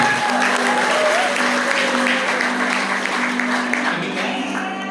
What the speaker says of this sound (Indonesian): Kita panggil dengan tepuk tangan yang meriah, Gracia Abigail